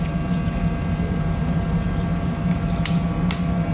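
Water pouring into a cooking pot of spicy beef stew seasoned with paprika, chili powder and tomato sauce; a steady, continuous rushing pour close by for the whole stretch, with no talking.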